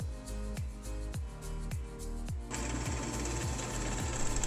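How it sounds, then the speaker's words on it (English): Machine-driven drilling of a series of holes in wood to rough out a mortise, with a steady run of short, evenly spaced bursts, then a denser continuous grinding whir near the end, loud and close. "drill a series of holes and remove the bulk of the material"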